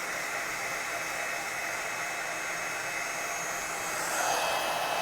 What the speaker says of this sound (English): So I'm going to heat up my heat tool.